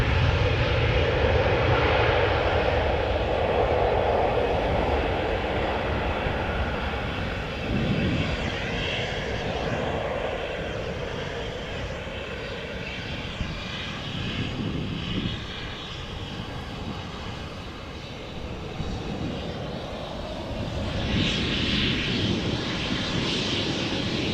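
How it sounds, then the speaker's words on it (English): A KLM Cityhopper Embraer 190 jet departing Amsterdam Schiphol, a broad steady engine roar at moderate distance that holds for the whole stretch and swells slightly near the end. "Another KLM City Hopper Embraer 190 outbound to Darlington"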